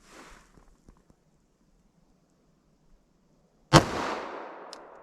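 A Glock pistol fires one .45 ACP 185-grain Winchester Silvertip round: a single sharp, loud shot with a ringing decay. It follows a few seconds of near silence with faint small knocks.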